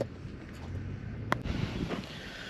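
Low, steady wind rumble buffets the microphone on a cloudy day by a 10-acre pond, with a couple of faint knocks partway through; no voices.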